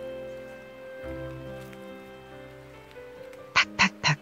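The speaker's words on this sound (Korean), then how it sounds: "저 뒤에 나무 덩굴에서 새가 움직인다." A bird moving in the tree vines behind a garden makes a quick burst of four sharp taps near the end, following a quiet outdoor stretch with a faint steady hum.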